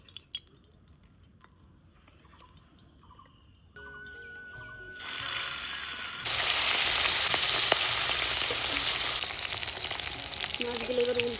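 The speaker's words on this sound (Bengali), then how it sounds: "তেল গরম হয়ে গেছে, এখন মাছগুলো দিয়ে দেবো।" Koi fish go into hot oil in a wok: after a quiet stretch of faint kitchen sounds, a loud, crackling sizzle bursts up midway and keeps hissing densely to the end, close by.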